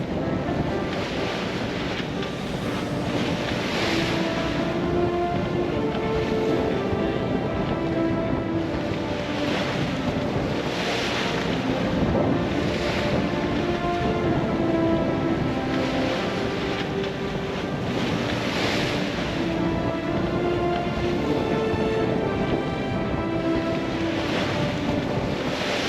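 A sailing boat rolls through leftover ocean swell, steady wash of waves and gusting wind buffeting the microphone, continuous and close, with no voices.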